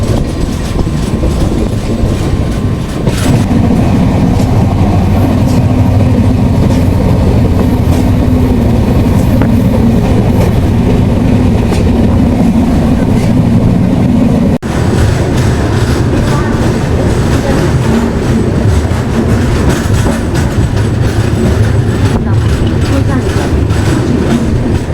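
A Mewar SF Express train rolls on after pulling out of the station, a loud continuous rumble with rhythmic wheel clatter and a sudden jolt partway through, heard from on board.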